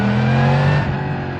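A 2024 Yamaha MT-10 SP motorcycle engine revs hard under acceleration in a short, loud, close burst, with a strong buzzing engine note that shifts pitch partway through.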